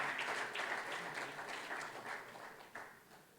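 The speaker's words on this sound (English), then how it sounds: "have some of the participants clapping" Participants at a gender equality certification and recognition event in Rwanda applauding, a steady wash of hand claps that stays moderately loud, then fades slightly toward the end.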